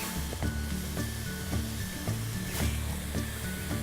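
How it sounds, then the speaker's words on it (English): Broccoli and mixed vegetables stirred in a hot pan, a steady sizzle with regular scraping strokes and a faint hum underneath, close and moderately loud. "We're going to stir it for another minute just to soften everything up."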